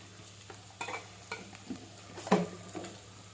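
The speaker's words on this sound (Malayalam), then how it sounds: "കുറച്ച് ഉപ്പ് ചേർത്ത് വഴറ്റിയിടും" Onion sautéing in a pan for Kerala-style country chicken curry, quiet sizzling under several distinct spoon scrapes and clinks against the pan, the loudest stroke near the middle, close and without talk.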